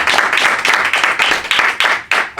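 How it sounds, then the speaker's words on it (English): A small group claps together in a brisk, loud burst of applause, the clapping swelling and dipping in quick waves over a couple of seconds. "give yourselves a round of applause"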